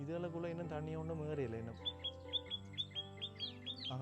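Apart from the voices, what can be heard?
small bird chirping in a chili garden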